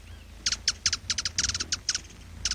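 A rufous-tailed hummingbird in the Belize tropics gives a rapid series of high, thin chirping calls in quick clusters, fairly close and clear over a low background hum.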